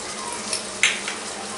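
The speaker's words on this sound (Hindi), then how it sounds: "यहाँ मैंने 3 से 4 टेबलस्पून ऑयल गरम कर लिया है थोड़ा सा, और यहाँ पे 2 फाइनली चॉप की हुई प्याज डाल देंगे" Chopped onions and green chilies hit hot oil, giving a soft, brief sizzle with a couple of small clinks or stirring sounds and no talking.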